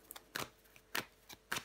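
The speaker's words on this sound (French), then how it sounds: "si j'arrive à mélanger les cartes" Tarot cards are shuffled by hand in four quick, soft riffling bursts separated by brief pauses, close and quiet.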